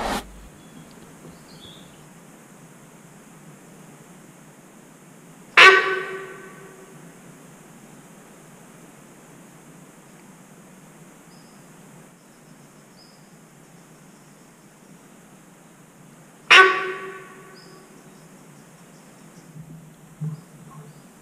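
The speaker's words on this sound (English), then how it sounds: "I could hear the deer that had retreated honking from a distance now" Two loud, sharp alarm honks from a sambar deer ring out about ten seconds apart over a quiet background hum of insects.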